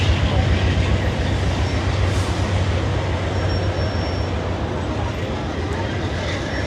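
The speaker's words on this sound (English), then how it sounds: "I see a couple more trains, a Via train and an Up Express train." Via and UP Express trains passing in Toronto, heard as a steady, loud rumble and rolling rail noise over continuous city street background, with faint voices mixed in.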